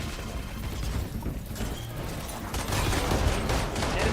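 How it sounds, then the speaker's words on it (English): A Swarm grenade deploying in Valorant, bursting into a dense spread of rattling, crackling pops and mechanical clatter that swells louder toward the end amid other game noise. "Swarm grenade out."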